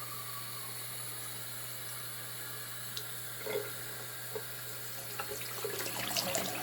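Tap water runs steadily into a kitchen sink while a pet bird is bathed, a faint continuous wash with a few small splashes and clinks near the end.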